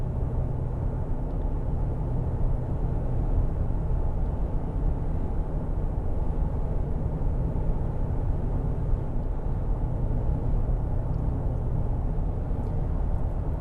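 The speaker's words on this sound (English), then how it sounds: "I'll remain silent for a few seconds so that way you get an idea of the road noise at highway speeds." Road noise inside a 2023 Honda Pilot TrailSport on all-terrain tires at 65 mph on the highway: a constant low rumble with a broad hiss, even and unbroken, and nobody talking.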